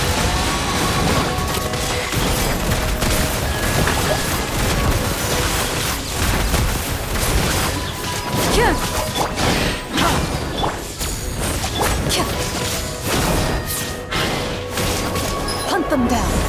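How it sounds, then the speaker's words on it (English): Dense, loud fireworks explosions and blasts in the video game Genshin Impact, overlapping booms and crashes in a constant barrage with character voices calling out over them. "Here come the fireworks!"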